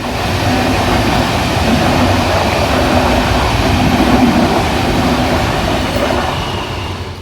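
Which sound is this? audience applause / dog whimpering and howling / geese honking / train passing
train passing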